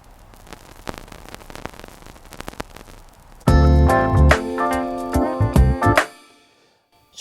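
Simulated vinyl dust crackle from the Audio Thing plugin, with dust set to full: sparse pops and clicks over a soft surface hiss, then carrying on beneath a burst of loud music before stopping abruptly.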